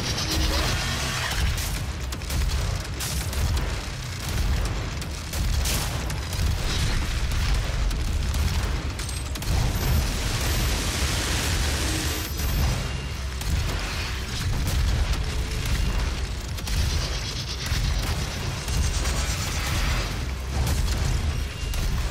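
Missile explosions in the video game DOOM roll on as a continuous loud barrage of booms and bursts, layered with mechanical clanking and no pauses.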